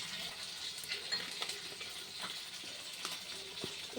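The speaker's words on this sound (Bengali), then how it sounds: "এই তেলটা গরম হয়ে গেছে, মাছটা দিয়ে দিলাম।" Fish sizzling and crackling steadily in hot oil, dressed with mustard and chili paste, with scattered pops and spits over a continuous hiss, close and moderately loud, no talking.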